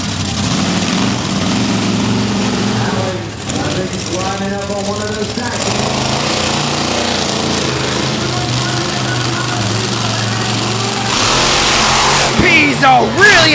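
A monster truck engine roars and revs loudly on a speedway track in Huntsville, Alabama, holding a sustained rumble with rising surges near the end while an announcer talks over it.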